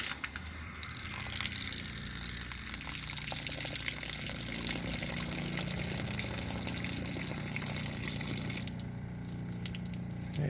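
Water drains from a travel trailer's side spigot during winterizing, a steady faint rushing splash that runs on without a break, with no voices.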